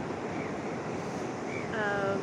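Ocean surf washes steadily onto a New Zealand beach on a summer evening, a soft, distant roar mixed with wind, and a brief faint voice near the end.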